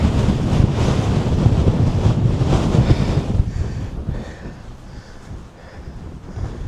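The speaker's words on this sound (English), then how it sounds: "So wind," Wind blowing across open moorland, buffeting the microphone with a loud, continuous gusting roar that eases slightly toward the end.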